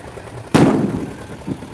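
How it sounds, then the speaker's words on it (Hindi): A single sharp firecracker bang at a Chhath festival gathering, loud and close, its echo trailing off over background crowd murmur, with a fainter pop near the end. "देख रहे हैं, बम पटाखे भी फूट रहे हैं।"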